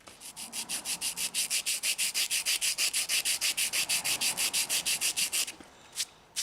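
Sandpaper rubbed over a carved limestone flute, about thirty rapid, even back-and-forth strokes in a steady rhythm, close and fairly loud, then a pause with a couple of stray scrapes.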